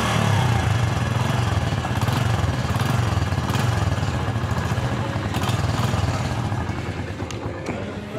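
A 2025 Honda CD 70 motorcycle engine runs loud and steady for about eight seconds, a continuous close-up drone that fades slightly near the end.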